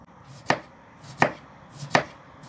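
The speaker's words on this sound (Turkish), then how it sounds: "Patateslerimi ince ince doğruyorum." Knife slicing through potatoes on a cutting board, four medium potatoes being cut thin: three crisp, evenly spaced chops about 0.7 seconds apart, close and clear over quiet room tone, no voices.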